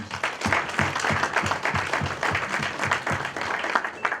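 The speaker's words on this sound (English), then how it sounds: "Can we all give them a round of applause?" Audience applause for sponsors at an insurance winter school gathering, a loud continuous patter of many hands with a few sharper individual claps standing out.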